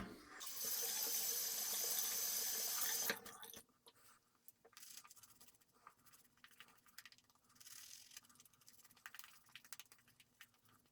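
Running tap water for a quick rinse, a strong steady rush for about three seconds that then stops, followed by faint splashing and handling sounds.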